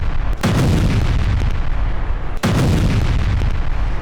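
Artillery shells fired by Israel in Gaza produce two heavy booms about two seconds apart. Each deep, loud impact is followed by a rolling rumble that fills the gaps.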